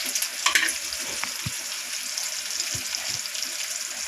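Onions with a pinch of salt sizzle in a pan at home, a steady crackling fry with a few soft stirring clinks and scrapes near the start, no talking.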